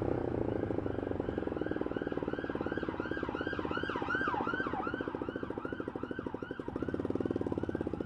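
Several sirens wailing at once in overlapping rising and falling sweeps over a rough engine drone, fairly loud throughout.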